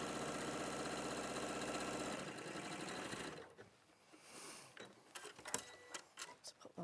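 Domestic sewing machine stitching fabric at a steady fast whir for about two seconds, then stopping; a quieter stretch follows with light handling clicks and taps of the fabric.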